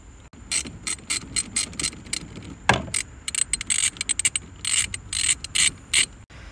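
An 8mm socket wrench ratchets on an intake clamp of a 2024 Ford Mustang S650 during a K&N filter install: close, sharp bursts of rapid clicking in short repeated runs with brief pauses, plus one heavier clunk.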